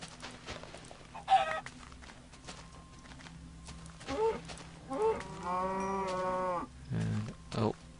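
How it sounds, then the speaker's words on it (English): Cows moo in long, drawn-out calls in a Minecraft modpack plains biome, several distinct moos after the midpoint over quiet ambience, with a chicken cluck mixed in. "As you can see, there's some cows here."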